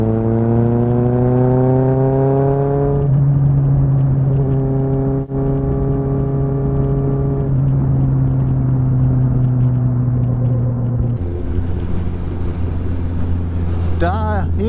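A Kawasaki ZXR motorcycle ridden through a village gives a loud, raw, rough engine drone close up. Its pitch shifts at gear changes and under throttle, and a brief rev flares at the end.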